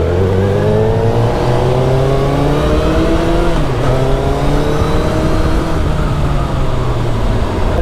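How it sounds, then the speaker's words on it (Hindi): A Suzuki Hayabusa superbike revs hard while riding in Goa, its engine note climbing in pitch and falling back before rising again, loud and close over steady road and wind noise. "आइकॉनिक बाइक है ये हायाबूसा. इसको चलाने में जो मज़ा है ना भाई, किसी दूसरी बाइक में नहीं है"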